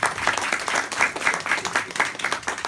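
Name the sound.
audience applause for an author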